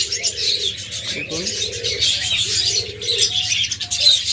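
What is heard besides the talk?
pair of cockatiels calling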